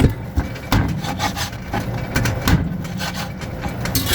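Close, repeated rough scraping and cutting strokes of a knife slicing chicken wings into small pieces against a hard surface, uneven in rhythm, with a faint dull thud now and then.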